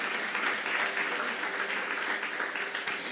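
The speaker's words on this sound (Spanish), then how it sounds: "denle un aplauso al Señor" At a women's church gathering, the congregation gives a steady, moderately quiet round of applause lasting the whole moment, with no talking over it.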